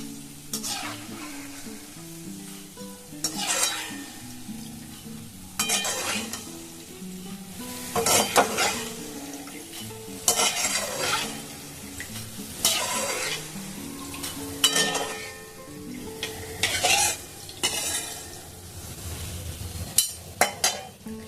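Bonde, small gram flour droplets, frying in hot oil with a steady sizzle, punctuated by repeated bursts of stirring and scraping and the clink of a metal utensil against the pan.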